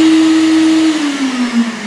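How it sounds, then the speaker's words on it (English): Vacuum pump on a vacuum forming machine shaping a PETG RC car body shell, running with a loud close steady whine whose pitch sags slightly partway through. "I'll leave the vacuum going for a little bit while it cools down."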